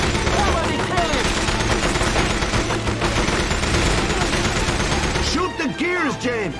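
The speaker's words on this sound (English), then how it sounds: "Shoot the gears, James!" Dense, rapid gunfire from the James Bond 007: From Russia With Love video game, sustained bursts filling the whole stretch with loud overlapping shots, game voices and effects mixed in.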